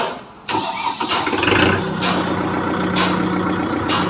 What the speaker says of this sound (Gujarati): જોઈ લો કેટલું સાયલેન્ટ એન્જિન આપેલું છે